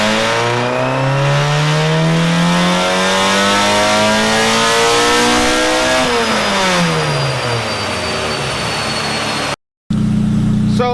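A Mustang engine on a dyno revs hard and steadily climbs in pitch, then drops back after a peak about midway and keeps roaring loud and close. It cuts off sharply near the end and restarts briefly.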